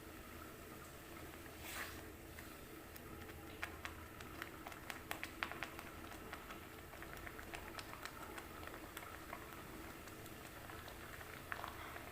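Tomato chutney simmering in a pan, a faint, steady bubbling with scattered soft pops and small spits continuing evenly throughout.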